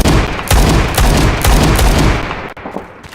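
Rapid automatic fire from a grease gun in the video game Phantom Forces, loud and close, in several sustained bursts with short gaps, then a final few shots trailing off.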